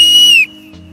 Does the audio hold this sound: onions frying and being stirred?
no